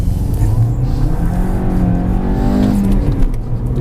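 A VW Golf 1.4 TSI engine pulls steadily under acceleration while driving, its rising drone loud and constant from inside the car, with road noise underneath.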